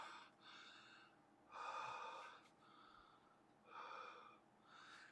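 Heavy, labored breaths after eating very hot habanero peppers: several raspy gasping inhales and exhales, some with a snorting, wheezy edge, close and fairly quiet with short pauses between them.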